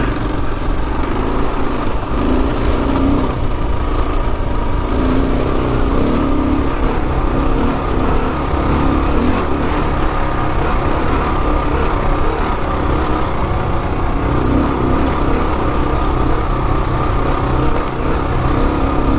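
A Kawasaki KLR650 motorcycle ridden on sand gives a steady, loud, continuous engine drone throughout, heard close up with wind noise and no talking.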